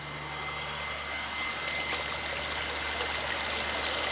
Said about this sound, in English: here we have a 1/2 horsepower pump running into a sand filter